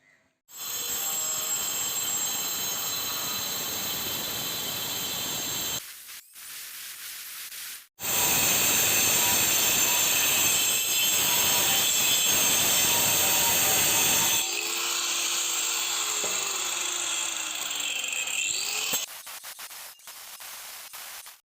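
A handheld cutter grinds through a granite slab with a harsh, loud, continuous whine, broken into a few long cutting passes with short silent gaps between them, and no talking.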